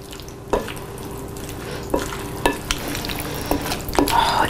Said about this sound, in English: We're going to stir it all up again.